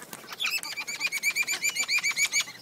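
A wild Australian parrot gives a rapid run of sharp, chirping calls close by, repeating in a steady rhythm for a couple of seconds with no talking.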